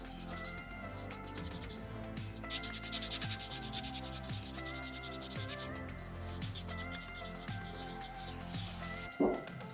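Sandpaper rubbed back and forth over a small soapstone fox carving, a steady close scratchy rasp in quick repeated strokes, ending with a brief knock.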